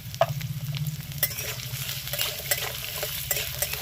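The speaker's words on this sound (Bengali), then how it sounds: "এই আলুর সাথে পেঁয়াজটাকেও ভেজে নেব" Potato, onion and slit green chillies fry together in hot oil in a pan, giving a steady crackling sizzle punctuated by the scrape and clink of stirring, with no talk.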